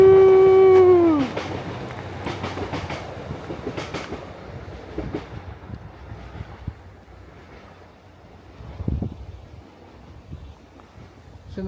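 A train rolls past with clattering wheels and wind buffeting the microphone, loud at first after a fading whistle-like tone, then settling into a steady rumble with intermittent clicks.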